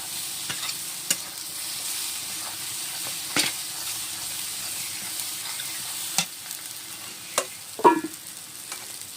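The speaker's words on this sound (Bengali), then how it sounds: "এখানে ভেজে রাখা আলুটা দিয়ে ভালো করে কষিয়ে নেব।" Stirring fried potatoes with turmeric in a pan for a Bengali fish head curry, a soft continuous sizzle with occasional scrapes and clacks of the spoon, close and alone.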